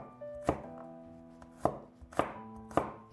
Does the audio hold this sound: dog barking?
no